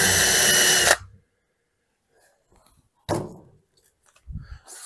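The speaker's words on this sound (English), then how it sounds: "I prefer to use a 764 self-centering drill bit." A power drill runs briefly with a 7/64 self-centering bit while cabinets are assembled, giving a loud whirring burst followed by quiet handling clicks and a second short buzz.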